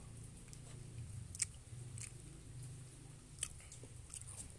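Crunchy Tini Wini Biti Marie milk-cheese biscuit bitten and chewed close to the mic, a steady low chewing rumble broken by a few sharper crunches, with no talking.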